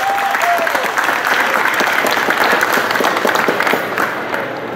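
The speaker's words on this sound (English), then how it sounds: "So let's give the team a round of applause" Loud, steady crowd applause for a bakery team at the Grand Floridian gingerbread house opening, continuous clapping from many hands that tapers slightly near the end.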